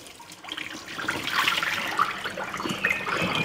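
Water soaked with apple cider vinegar is poured out of a bowl of vegetables into a kitchen sink, a steady close splashing stream with bubbling surges, no talking.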